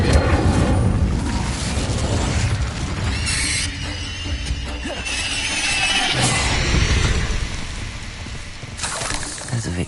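Booming fire-spell blasts and crashing impacts from Incendio and other spells in a Hogwarts Legacy fight, dense and loud throughout under a continuous layer of game music and effects, with a player talking over it.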